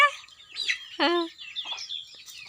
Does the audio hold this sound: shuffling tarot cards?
no